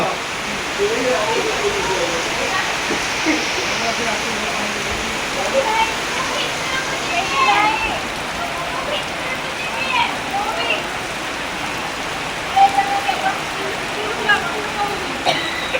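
Floodwater pouring into a hotel, a loud continuous rushing and splashing roar, with voices talking over it at intervals.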